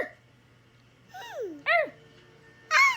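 A baby's voice imitates a dog with short, rising yelps and yips, two or three separate bursts after a quiet start, close and fairly loud.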